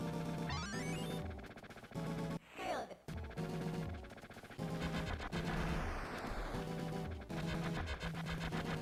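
Busy audio from the Sega Genesis game Lightening Force, with music, rapid gunfire bursts and crackling enemy explosions, cutting in and out in short sections.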